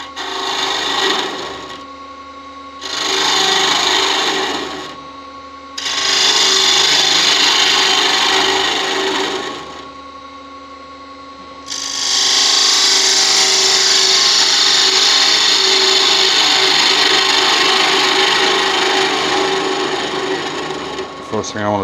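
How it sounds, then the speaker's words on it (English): Mulberry wood is hollowed out on a lathe to form a snowman's head, with a tool scraping and cutting the spinning wood in several loud bursts separated by brief pauses, then one long sustained cut. "make here fit the snowman's head, which is just a case of hollowing it"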